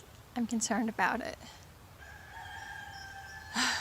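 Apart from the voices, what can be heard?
rooster crowing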